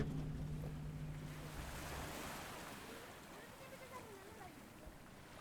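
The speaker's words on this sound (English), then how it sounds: "The lapping of the mighty Pacific Ocean" Pacific Ocean waves lapping at Playa Carrizalillo make a steady, soft wash of surf that continues without a break, with wind noise over the microphone and a faint low hum at the start.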